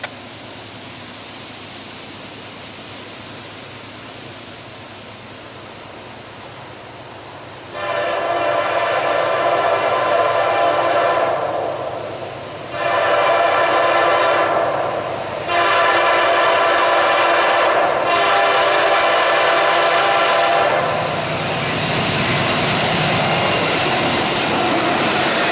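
Southern Pacific locomotive #1996 leads a freight train past, sounding its horn in several long, loud blasts with short breaks between them, then a steady rumble of the passing train carries on after the horn stops.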